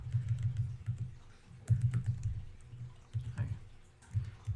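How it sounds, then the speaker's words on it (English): Rapid, uneven tapping on a small computer keyboard, with quiet clustered keystrokes coming in short bursts and brief pauses, close and soft with no talking. "So weird typing on the small keyboard."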